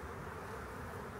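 Honeybees at an open hive, being driven down from the top of the frames in April, make a dense, continuous close-up buzz with no voices.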